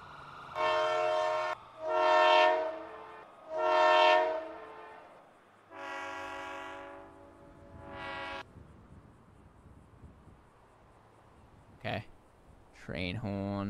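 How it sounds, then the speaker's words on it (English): A loud multi-tone train horn fitted to a vehicle in GTA 5 blasts several times, three short honks then longer held blasts, with faint background noise between. "I'm gonna add a train horn."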